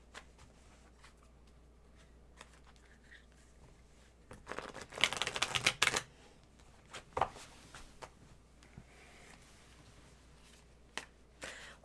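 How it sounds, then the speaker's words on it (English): Tarot cards being shuffled by hand, soft papery riffles and taps that swell into a dense burst of crisp card flicking midway, with scattered light handling clicks before and after in a quiet room. "Oh, you must have known I was done shuffling."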